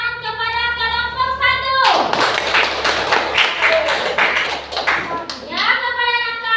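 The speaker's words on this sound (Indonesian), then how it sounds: "Berikan tepuk tangan kepada kelompok" A university classroom of student teachers claps for a student group, a burst of brisk, close hand clapping lasting a few seconds, framed by tonal musical or sung sounds before and after.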